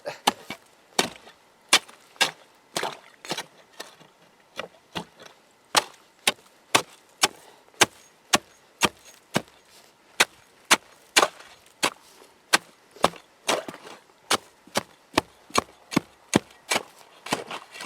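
Axe or hatchet chopping through ice and wood to free a snared otter outdoors in winter, a long series of sharp, irregularly spaced blows, close and alone with no talking.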